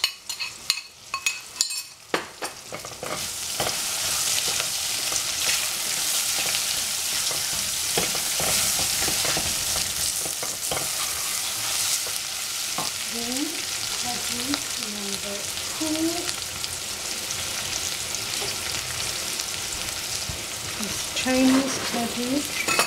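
Cabbage stir-frying in a pan, a steady loud sizzle with repeated scraping and stirring strokes throughout, and utensil knocks near the start.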